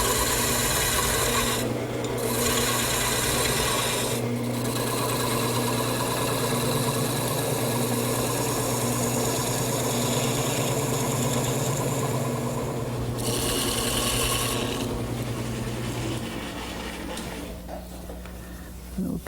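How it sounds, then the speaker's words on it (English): Steady scraping and rasping of a large gouge forming a bead on chestnut wood on a spinning lathe, with a constant motor hum underneath and brief pauses in the cut. "now I'm going to go back to my large gouge and start to form a bead"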